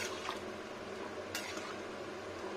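Fresh water poured into a cooking pot of simmering pumpkin-stem and fried-egg curry makes a steady close-up splashing, bubbling wash, with a faint clink of the pot partway through.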